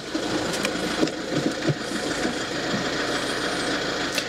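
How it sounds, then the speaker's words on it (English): A Toyota Avensis diesel engine idles just after start-up, giving a steady, close clattering rumble with light knocking throughout and no talking. "They're noisy, aren't they, diesels?"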